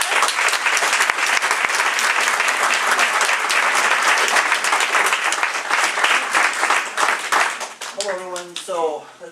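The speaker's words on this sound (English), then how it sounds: "So if we can all give a nice round of applause." An audience applauds a guest speaker at a Super Saturday event with sustained, loud, dense clapping. Near the end the clapping thins out and a voice begins to speak.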